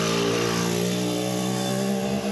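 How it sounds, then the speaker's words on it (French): A scooter passing along a street on Stromboli: a steady, fairly loud buzzing engine drone with a sustained tone that holds throughout and eases slightly at the end. "il y a des scooters qui passent toutes les 5 minutes ici"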